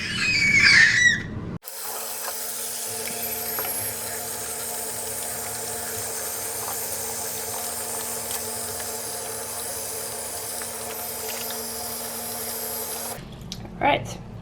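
Water runs steadily from a tap into a sink to soak hand-knitted pieces, a continuous rushing hiss that starts abruptly, holds for about eleven seconds, then stops.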